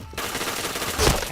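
Rapid video-game gunfire crackles densely for over a second, with a louder burst near the end, dense and close with no talk over it.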